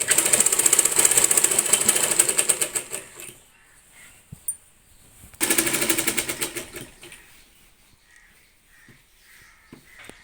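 A household sewing machine stitches a saree fall in loud, rapid mechanical bursts. The whirring runs for about three seconds, pauses, then starts again, with quiet handling noises in between.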